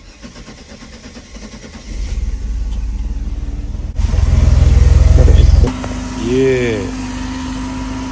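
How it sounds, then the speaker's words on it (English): A Mercedes 190E, sitting unused for five years and fitted with a new battery and fresh coolant, cranks and catches into a loud, rumbling start, then settles to a steady idle, with a brief spoken word near the end. "First startup ever in the Mercedes 190E."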